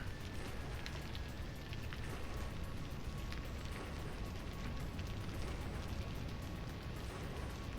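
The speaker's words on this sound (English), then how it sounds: "Very rainy over here." Steady rain falls in the ocean-start world of the video game Vintage Story, a constant hiss of drops on surfaces with soft scattered ticks, moderately faint and unbroken throughout with no voices.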